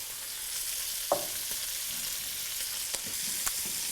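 Onions frying in a pan for Acquacotta Maremmana, an Italian soup, a steady soft hiss with a few sharp pops and spoon taps, close and moderately quiet, with no talk.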